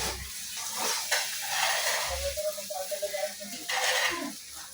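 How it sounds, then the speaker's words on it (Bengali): Vegetable noodles being stir-fried in a pan with coriander leaves, giving a steady sizzle broken by scraping stirs and light metallic clinks of the utensil against the pan. "এখন 2-3 মিনিটের মতো ভাজি করে নেব।"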